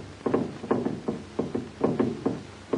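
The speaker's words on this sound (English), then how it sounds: "Is that knocking?" Muffled knocking comes from someone trapped under wreckage after an explosion, dull thuds in uneven pairs and clusters repeating about seven times, moderately loud and hollow with no talk over them.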